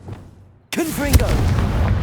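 A Confringo fire blast spell cast in the video game Hogwarts Legacy bursts in suddenly after a brief silence as a loud, booming blast with a crackling fiery tail, overlapped by a voice speaking.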